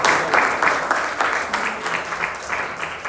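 Steady audience applause at a club meeting for the volunteers who set up the food, many hands clapping in a fairly even, rhythmic patter at close range.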